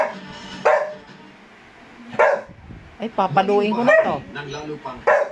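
Pet dog named Koy-Koy barking at home, several sharp barks and yips close by, mixed with whimpering, while a person talks to it over the barking.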